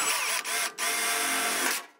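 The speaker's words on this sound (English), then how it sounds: "you're going to need to drill another hole" A power drill with a 7/32-inch bit whirs at high speed into a wooden bar, briefly stopping twice and spinning back up before winding down, close and loud with no talking.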